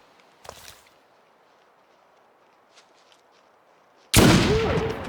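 A single loud gunshot from a rifle in The Long Dark, fired by a kneeling player at a creature running toward him, bursts out near the end after a quiet stretch with faint footsteps and a light knock.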